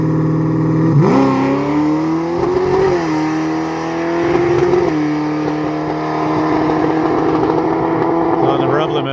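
A tuned car engine, limited to about 6100 rpm, is held against its rev limiter, producing a loud, sustained droning roar whose pitch wavers slightly as it bounces at the limit.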